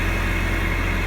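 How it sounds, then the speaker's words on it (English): A tractor engine idles steadily while warming up outdoors on a breezy farm day, a continuous low, even rumble with no talk. "let the tractor warm up"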